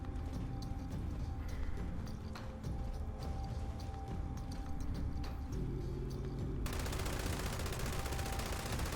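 An explosive light machine gun with the vampire's effect fires in Fallout 76 in rapid, sustained bursts of crackling shots over steady game ambience, then the firing stops and a different background tone takes over near the end.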